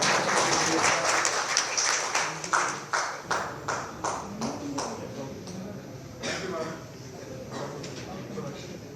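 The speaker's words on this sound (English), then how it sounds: "Ladies and gentlemen, let's give a huge round of applause" Audience applause at a formal ceremony, a dense burst of clapping that thins into scattered, separate claps and fades into a sparse patter near the end.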